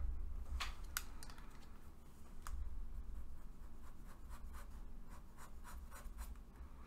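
Marker pen squeaking and scratching across a board while a straight line is drawn for a beam bending moment diagram, with short repeated strokes, fairly faint and close, and no talking.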